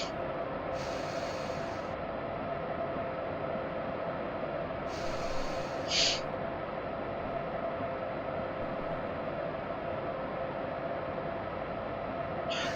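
Long freight train hauled by a BR189 electric locomotive with tanker wagons on the Hamburg–Hanover line in Train Simulator 2015: a steady, loud broadband rumble and hiss of rolling wagons with two short brighter hissing bursts.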